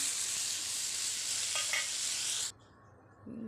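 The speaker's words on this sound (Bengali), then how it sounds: "একটু ভালো করে হালকা ভাজাভাজি করে নেব নাড়াচাড়া করে নিচ্ছি" Tomato, onion and potatoes fry and get stirred in a pan: a loud, steady hiss with a brief spatula scrape partway through. The sizzle cuts off sharply, leaving near quiet with a faint low noise at the end.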